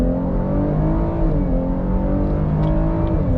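A 2021 Chevrolet Blazer RS V6 with all-wheel drive accelerates hard on throttle, its engine note loud, close and steady as it climbs in pitch, with no talking over it.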